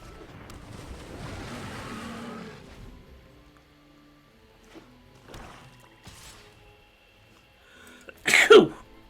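A single sharp, loud sneeze bursts out near the end, close to the microphone, after a quieter stretch of rustling and faint room noise.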